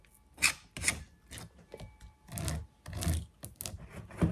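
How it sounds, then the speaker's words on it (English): A small beekeeping scratcher scraping wax cappings off honeycomb on extraction day, a series of short, close rasping strokes in an uneven rhythm with brief pauses between them. "we use this little scratcher. And all you want to do is lightly scratch the top off it"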